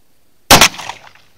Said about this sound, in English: fire another shot, see where we hit